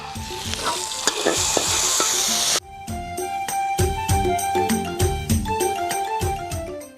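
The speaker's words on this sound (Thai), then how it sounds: "เราก็ผัด เจ้าน้ำพริกโรงเรือนี่นะฮะ" Chili paste sizzles loudly in a hot wok over a charcoal stove while a utensil scrapes and clanks rhythmically, stirring close up.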